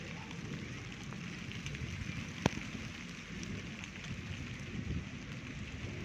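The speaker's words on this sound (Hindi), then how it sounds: "और ये बारिश हो रही है" Steady rain in a village in Bhakkar district, Punjab, patters continuously on surfaces, a dense even hiss with one sharp drip or tap standing out midway.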